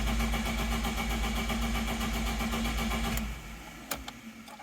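A BMW E30 Touring engine turns over in a steady, loud, continuous crank for about three seconds without catching, then cuts off, followed by a few faint clicks.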